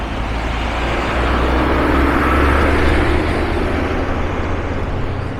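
Road traffic with a bus passing around a roundabout in Da Nang, Vietnam, heard from a moving motorbike: a loud, steady roar of engines and tyre and wind noise swelling midway, no talk.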